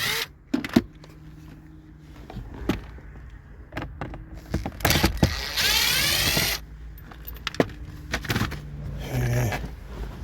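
Screws being backed out from the plastic steering column trim of a 2012 Kia Optima, with close-up ratcheting clicks, plastic knocks and a brief whirring burst from a driver tool amid handling noises.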